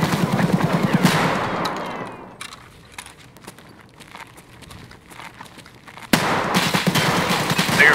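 Escape from Tarkov gunfire rattles in loud rapid bursts at close range, a long automatic burst at the start, a quieter lull, then another sustained burst at the end.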